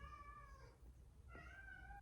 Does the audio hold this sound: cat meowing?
yes